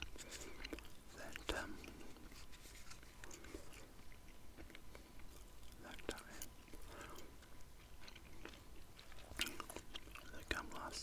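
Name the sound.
chewing gum while whispering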